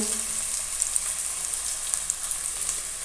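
Onions fry in a pan for chicken curry, a steady close hissing sizzle with faint crackles throughout.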